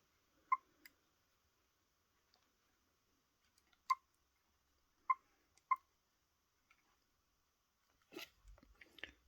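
Used digital cameras click their shutters in a quiet room: a handful of sharp, faint, isolated clicks spaced a second or more apart, followed by a short rustle at the end.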